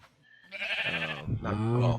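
Sheep bleats inside the game Minecraft, two drawn-out, wavering calls with a short pause between them, fairly close and clear with no other sound around them.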